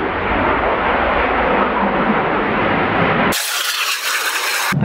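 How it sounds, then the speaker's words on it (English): A jet aircraft passes overhead, a loud, steady broadband roar filling the whole clip without a break, in a noisy outdoor setting in the UK. "and there's another jet."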